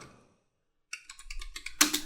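A short burst of keystrokes on a computer keyboard entering a debugger command, close and crisp, a quick run of taps ending in a firmer double press, with no talking.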